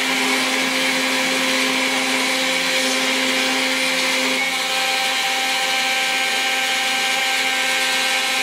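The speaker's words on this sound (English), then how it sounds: "this is how the coarse grinding looks. It is a very crude grit. I think it is 36. It is very fast." A belt grinder with very coarse grit, around 36, tears steadily into a pattern-welded sword blade. The high whine stays loud and unbroken, with a faint dip in pitch partway through as the pressure shifts.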